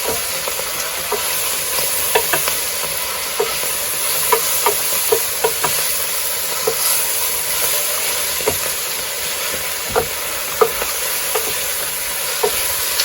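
Fresh garden spinach stirred in a pot for a spinach and rice dish, a constant bright sizzle with repeated sharp scrapes and taps of the spoon against the pot, close and without talk.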